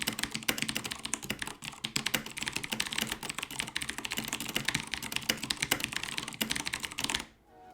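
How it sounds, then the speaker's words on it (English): Rapid, steady typing on a mechanical keyboard with Cherry MX Blue switches, crisp clicky keystrokes in a dense continuous stream up close, stopping abruptly at the end. "So this is starting with a Cherry MX Blue"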